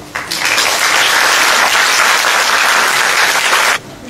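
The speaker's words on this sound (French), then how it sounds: "je crois que ça mérite quand même des applaudissements" A theatre festival audience breaks into loud, dense applause that swells in quickly, holds steady for several seconds and then cuts off.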